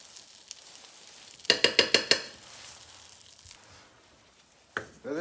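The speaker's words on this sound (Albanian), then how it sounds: "fillojmë tani ta përhapim miellin që të marrë një skuqe të lehtë" A spoon stirs flour into melted butter in a small pan. Five quick scraping clacks come in a row, then a faint low sizzle, and one more scrape near the end.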